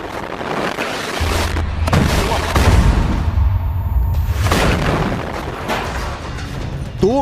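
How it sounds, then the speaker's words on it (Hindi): Heavy explosions in footage of the Israel–Hamas war in Gaza, with attacks on Israeli tanks and armored vehicles: deep, loud rumbling blasts that swell and roll over several seconds amid constant battlefield noise. "बहुत से हमले हैं, बहुत से धमाके हैं।"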